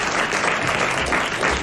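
A studio audience at a 1990 French television show claps in a dense, steady burst of applause that stays loud and even throughout, without voices over it.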